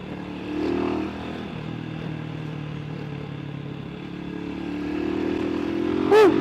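A RUSI Classic 250 motorcycle cruising along a highway, its steady engine drone and wind rumble holding throughout, rising slightly toward the end with a brief clatter at the close.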